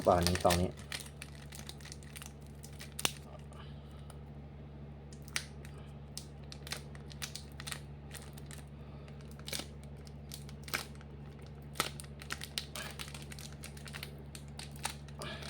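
A Gachikuma trading card pack wrapper being handled and opened, giving scattered soft crinkles and small plastic clicks over a low steady hum, quiet and close, with a short burst of talk at the very start.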